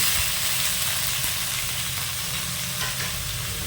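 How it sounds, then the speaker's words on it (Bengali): Pumpkin, eggplant and potato sizzle in a frying pan with dried chillies and five-spice seeds, a loud steady hiss of frying with occasional stirring scrapes and no talking. "এবার দিয়ে দিচ্ছে কুমড়ো, বেগুন"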